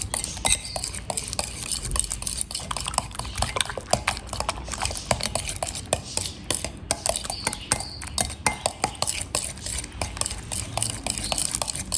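Eggs being mixed in a bowl with a spoon, a rapid, steady clinking and tapping of the spoon against the bowl, close up and continuous with slight variations in pace.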